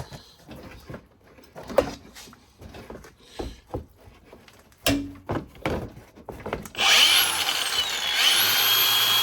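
A power tool cuts the pinch weld on a 4th-gen Toyota 4Runner, starting as short bursts and scrapes, then settling into a loud continuous grinding whine for the last few seconds.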